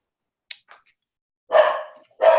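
A dog barks indoors in two loud, close bursts after a couple of faint yips, cutting into an online business class session with no talk in between.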